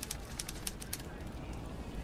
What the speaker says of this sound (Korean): 아 비둘기.